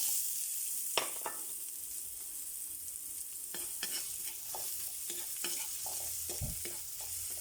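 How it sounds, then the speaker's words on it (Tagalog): Garlic and onion sautéing in a pan, a soft constant sizzle broken by a few sharp utensil clicks and scrapes from stirring, close and fairly quiet with no talking. "Mag-igisa na po tayo. Ito po, bawang."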